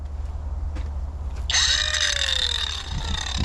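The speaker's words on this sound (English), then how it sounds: "I took my grinder and I was going to round over some of these edges" An angle grinder rounds over the edges of a wooden rocking chair built from dead trees; after a quiet start it kicks on abruptly, whining up to a loud, sustained, close-up grinding tone.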